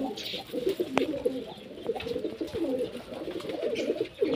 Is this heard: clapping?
no